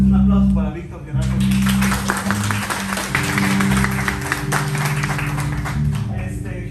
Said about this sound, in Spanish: Un aplauso para Víctor Gerardo